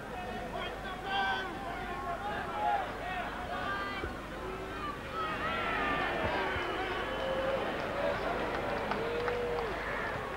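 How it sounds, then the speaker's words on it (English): Rugby league Test crowd, New Zealand versus Australia in 1983, jeering and murmuring at the Australian goal kicker; a broad, distant roar of voices rising and swelling, with a commentator speaking over it. "Crowd a little unsporting"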